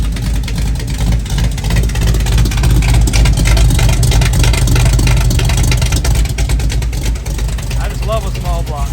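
A small-block V8 engine in a square-body truck idles and rumbles steadily up close with a deep, throaty exhaust note, a brief voice slipping in near the end.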